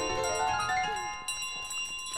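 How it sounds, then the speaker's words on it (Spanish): Bell chimes ring out in Untitled Goose Game, sustained tonal peals layered over steady background game music, loud and continuous with no talking. "Son las campanadas."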